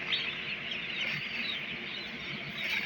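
Chicks in a poultry control house, many small birds chirping continuously at a steady, fairly close level, forming a dense high chatter with no talk.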